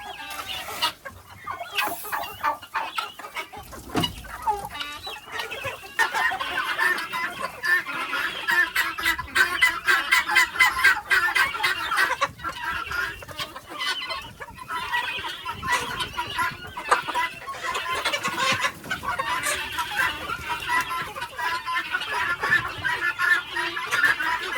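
A group of chickens clucking and chattering continuously at close range, with brief handling noises early on.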